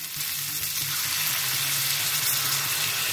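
Measured water goes into a pan of spiced, sautéed cauliflower for a Bengali koi fish and cauliflower curry, bringing a steady, close hiss and sizzle that lasts the whole three seconds without a break.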